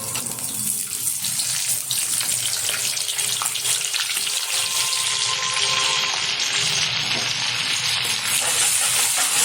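Butter melting into hot white oil in a pan for fried rice gives a steady, loud, continuous sizzle with a dense hiss that holds evenly throughout.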